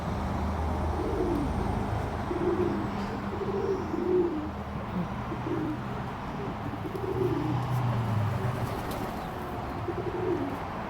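Pigeons in a loft, including a young cock bird, give low rolling coos in repeated phrases, close and clear over a steady ambient hum, with a faint wing flutter.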